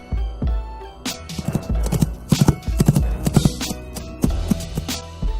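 Foley recreation of a horse: rhythmic clip-clop hoofbeats struck out in quick irregular bursts, with a brief whinny-like tone near the start, close and fairly loud with no talking.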